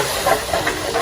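Chicken stock poured into a hot roasting pan gives a brief, steady, close hiss and sizzle, with no talk.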